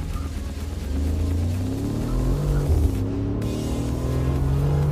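A Mercedes G63 AMG in sport mode pulls away from a standstill, its engine heard from inside as a deep rumble that rises through the gears in steady sweeps.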